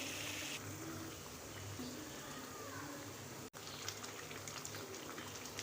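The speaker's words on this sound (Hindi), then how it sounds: "हमने टमाटरों को पकने के लिए रखा हुआ है। इसका पानी हल्का हल्का खुश्क होने लगा है।" Chopped tomatoes simmer over medium heat in a pot as they cook down into homemade tomato paste, giving a faint, steady bubbling and light popping that runs continuously, quiet and close.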